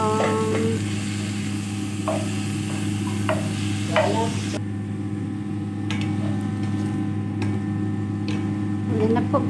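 Kangkong stems sautéing in a pan for ginisang kangkong, with a low steady sizzle and occasional scraping stirs and clinks of a utensil against the pan, heard up close.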